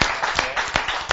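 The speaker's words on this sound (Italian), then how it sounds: "un applauso strepitoso" A few rhythmic claps at a 33rd Triveneto cyclocross race event in Mussolente, sounding as short sharp bursts about three times a second, fairly close and brief.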